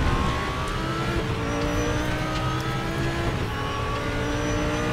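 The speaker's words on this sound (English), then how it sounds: "Really liking this Audi car." An Audi R8 LMS race car at the Red Bull Ring in the RaceRoom racing game, its engine droning loud and steady for the whole stretch as it climbs through the revs and shifts, with no talk over it.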